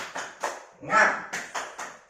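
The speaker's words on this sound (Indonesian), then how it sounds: "Tepuk semangat" A fifth-grade elementary class performs a rhythmic group clap, sharp unison claps in a steady pattern, broken in the middle by a shouted voice before the clapping resumes.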